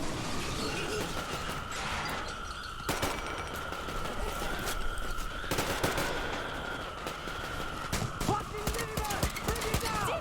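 Gunshots in the video game Metro Exodus, a run of sharp repeated shots and bursts over a steady game background, with talking in places.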